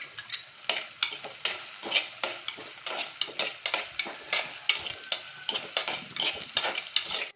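Onion and green chilli frying in a pan for a prawn theeyal, a steady close sizzle broken by regular scraping stirs, alone with no talk.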